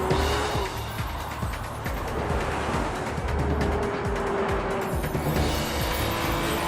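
A 2012 Porsche Cayman R drives at speed, its engine a steady, loud roar with tire and road noise running throughout, carrying no speech.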